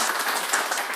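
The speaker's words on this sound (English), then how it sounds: "Let's give everyone a round of applause." Audience applause at a tech meetup, a brief, dense wash of many hands clapping, steady and fairly loud for a second.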